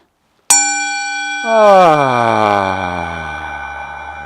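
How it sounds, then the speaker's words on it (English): A single resonant gong strike rings out after a moment of silence, its shimmering tone swelling briefly and then slowly decaying. "We're going to gong ourselves in."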